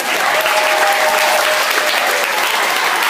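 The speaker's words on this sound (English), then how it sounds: "Everyone give Carter a round of applause." A loud, sustained round of applause from a crowd at a youth ministry vision night, dense and even clapping filling the whole stretch without a break.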